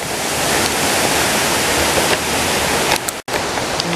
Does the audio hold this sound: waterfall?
yes